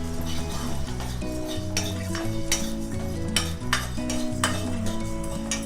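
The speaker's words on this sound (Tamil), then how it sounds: "ஸோ லோ ஃப்ளேமில் வச்சுட்டு நம்ம நல்லா வறுத்து எடுக்கணும்" Whole spices dry-roasting in a pan over a low flame, with a spoon scraping and clinking against the metal in repeated stirring strokes over a steady background hum, close and fairly quiet.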